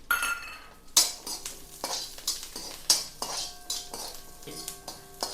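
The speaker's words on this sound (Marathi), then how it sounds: "आपण आता हे लसूण परतून घेणार आहोत" Garlic sautéed in a pan while making black garam masala, with repeated metal spoon scrapes and clinks against the pan over a faint sizzle, fairly quiet and close.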